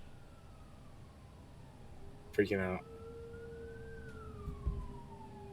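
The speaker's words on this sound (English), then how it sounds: "That's some weird sirens" Wailing emergency vehicle sirens near the Canada border, a long sliding tone rising and falling steadily through the clip with a burst of speech and dogs howling along faintly.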